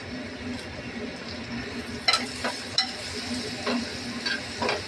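Onion frying in oil as green chili, tomato, coriander, black pepper and cumin are stirred in: a steady close sizzle broken by several sharp scrapes and clinks of the stirring utensil against the pan.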